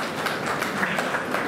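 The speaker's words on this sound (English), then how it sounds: "please do give a round of applause for all the students" Steady audience applause for students at a club installation ceremony, an even wash of many hands clapping at moderate volume with no pauses.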